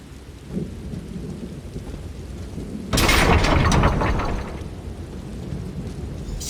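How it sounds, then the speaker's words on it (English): Heavy rain hisses steadily, then a loud crack of thunder bursts in and rumbles for over a second before fading back into the downpour, with storm noise continuing beneath. "How often are we going to see a tempest like this in one lifetime?"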